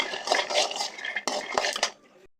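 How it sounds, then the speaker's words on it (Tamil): Flour ingredients for a homemade health-mix powder dry roast in a pan over a medium flame, a spoon scraping and clinking against the metal in quick bursts before the sound stops abruptly. "இந்த மீடியம் ஃப்ளேமில் வச்சு நம்ம வறுத்துட்டே இருக்கலாம்"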